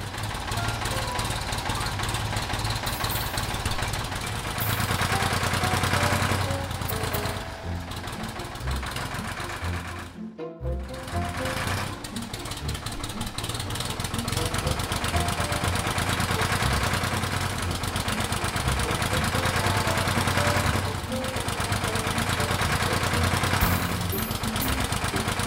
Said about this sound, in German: Vorsichtig senkt der Traktor den Pflug.